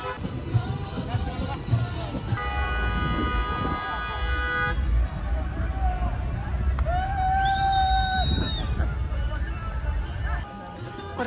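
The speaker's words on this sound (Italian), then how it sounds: "ogni angolo tutti che urlano e suonano clacson a caso" Several car horns honk over a busy festive street crowd in Jordan, one long steady blare followed by shorter overlapping toots, with voices chattering and shouting throughout.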